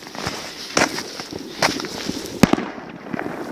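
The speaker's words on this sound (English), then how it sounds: "you can hear somebody's firing the rocket" Fireworks rockets being set off outdoors give a string of sharp pops and crackles at uneven intervals, with one louder crack near the end, all fairly close with no talking.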